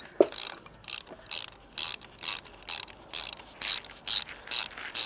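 Ratcheting wrench tightening bolts during a Toyota 2JZ engine teardown and crank removal: about eleven even bursts of rapid close clicking, roughly half a second each with short pauses between, alone with no talk.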